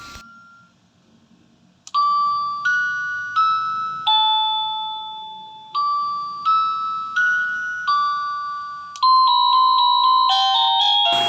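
Wireless doorbell receiver made by Cacazi cycling through its selectable tones: a series of clear electronic ding-dong chimes, each pair fading before the next, then a faster multi-note jingle at the end, loud and close with no talk.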